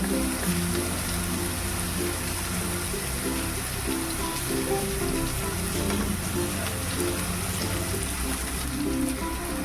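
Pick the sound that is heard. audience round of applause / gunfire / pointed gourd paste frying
pointed gourd paste frying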